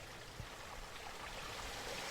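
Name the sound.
creek flowing under footbridge, Damnation Creek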